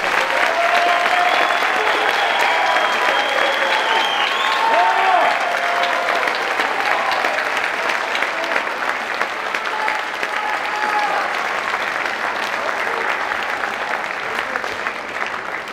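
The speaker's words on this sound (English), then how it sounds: "you may now give a big round of applause to all your students." Sustained applause from families in the audience at the 2024 Blackhawk Middle School seventh grade academic awards ceremony, steady and dense clapping that holds at an even level throughout with a faint crowd murmur underneath.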